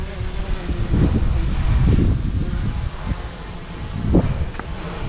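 Strong wind blows outdoors, a continuous rumbling roar that buffets the microphone, with gusts swelling and easing throughout.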